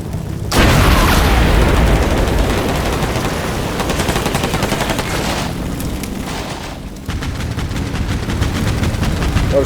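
Dense gunfire and booming explosions from the tank combat game Combat Mission Black Sea, a sustained loud barrage of rapid shots and blasts with a short lull before firing resumes.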